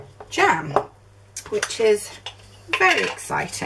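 Hot glass canning jars filled with caramelised onion jam clatter and clink together in bursts, handled and set down in a kitchen, with a person talking between the knocks.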